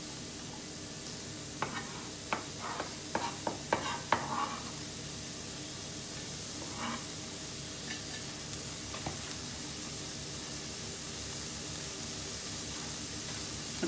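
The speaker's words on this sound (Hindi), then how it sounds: "तेका लागून रोखडो हांव पियाव घाता" Onion frying in butter in a hot frying pan, a soft steady sizzle with a run of sharp crackles and pops in the first few seconds, then quieter, scattered spitting.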